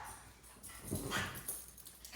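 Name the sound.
dog reacting to something outside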